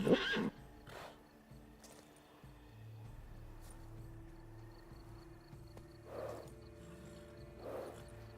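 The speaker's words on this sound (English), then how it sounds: "That's a horse." A horse in the video game Witcher 3: Wild Hunt whinnies loudly at the start, followed by a few softer snorts and hoof sounds over a low ambient hum, with another whinny near the end.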